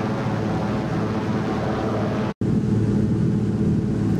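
A DHC-2 Beaver's piston engine drones in the X-Plane 11 flight simulator, throttled back to 2,000 RPM for a descent along a river. The hum is steady and loud, with one brief dropout to silence partway through.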